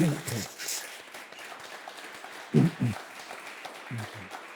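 Scattered audience applause at a French urban investment talk, light and fairly distant, with brief voices breaking through now and then.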